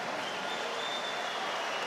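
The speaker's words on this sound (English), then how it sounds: "Roman Entomac, not surprisingly, gets a generous round of applause" Rugby crowd at a Top 14 semi-final between Toulouse and Racing 92 applauding a substituted player, a steady, fairly distant wash of clapping filling the stadium for a brief moment.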